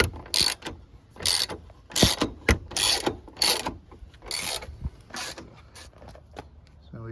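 Bolts being undone on the dashboard of a Ford FG Falcon during dash removal, a series of close mechanical ratcheting bursts and clicks in uneven rhythm with short pauses between.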